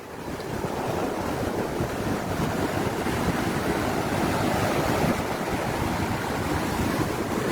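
Roaring typhoon wind buffeting the microphone over the constant wash of waves, loud and unbroken throughout.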